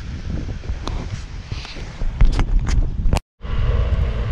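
Wind buffets a microphone outdoors on a cool, rainy ride on a Maxsym TL 500 scooter. It is a loud, steady low rumble with gusting bursts, briefly cut out near the end before resuming.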